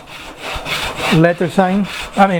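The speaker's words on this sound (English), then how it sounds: "We're using the Japanese saw." A Japanese hand saw cuts scrap wood clamped in a vise, making close, rhythmic rasping strokes, with a few squealing, tonal pulls in the second half.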